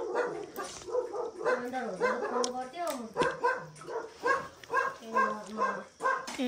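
Village dogs in rural Ramechhap bark and yip in quick repeated bursts close by, with a person talking over them throughout.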